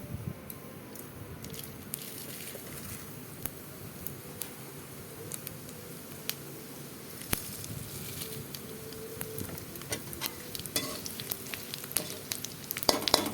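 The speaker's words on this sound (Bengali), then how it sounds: "তেজপাতা গরম হলে পরে তারপর দিয়ে দেব কালো জিরা" Bay leaf and black cumin seeds frying in hot oil for a Bengali vegetarian raw banana dish, a steady close sizzle and crackle with scattered sharp pops growing busier toward the end, no voices.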